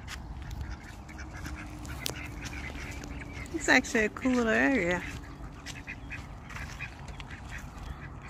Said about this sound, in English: Duck break.